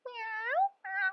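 A cat gives two clear meows, the first long and drawn out and the second shorter, heard close and alone during a children's music and story class.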